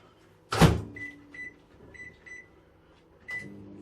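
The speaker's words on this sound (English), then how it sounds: "Just popping my wife's one in the microwave." A microwave oven door thumps shut loudly, followed by a few soft beeps as it is set and a later click, quiet and close in an otherwise still room.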